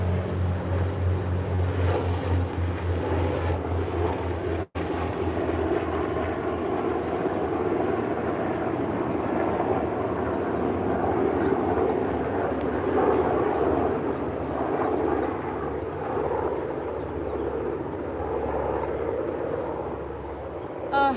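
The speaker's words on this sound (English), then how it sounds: "I have two helicopters flying by." Two helicopters pass by outdoors, a continuous low rumbling drone that swells and fades over about twenty seconds, moderately distant, with a brief sharp click partway through.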